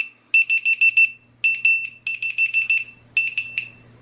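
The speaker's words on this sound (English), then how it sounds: "what that is an anti-theft alarm." A VIFLY drone beacon's loud, shrill electronic anti-theft alarm beeps in rapid bursts, several quick pulses per group with short pauses between, piercing and close.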